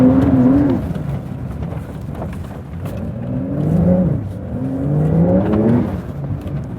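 Porsche 911 Dakar engine revving and accelerating off-road in mud, with rising and falling engine pitch in repeated surges, loud and close, no talk.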